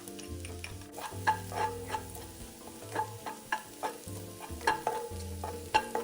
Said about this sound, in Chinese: 30克蒜瓣剁碎后也加入爆香。